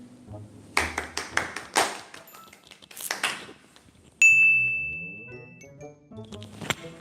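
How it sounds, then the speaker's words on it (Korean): A few scattered hand claps, then a sustained bright electronic tone rings out, followed by more light claps near the end. "박수가 이상한데요?"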